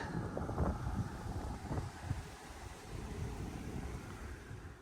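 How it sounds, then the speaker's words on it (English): Strong headwind buffeting a cyclist on the Klondike Highway, a loud steady roar with gusty swells, trees blowing and no talking. "the headwind keeps getting heavier and heavier. These trees are really blowing."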